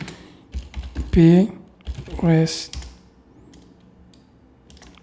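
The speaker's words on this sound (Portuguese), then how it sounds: "No roteador 2, na interface F0/0, que está interconectada ao outro roteador, nós iremos digitar int F0/0" Computer keyboard keys click softly in short bursts while someone speaks over them, the typing faint and close, continuing quietly after the talk ends.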